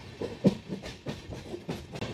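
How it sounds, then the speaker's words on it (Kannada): A passenger train rolls into Hubli junction at night in heavy rain, its wagons rumbling and clattering over rail joints in a steady rhythm, heard from inside the coach with no talk. "ಈಗ ನಮ್ಮ ಟ್ರೈನು ಹುಬ್ಳಿಗೆ ರೀಚ್ ಆಗ್ತಾ ಇದೆ"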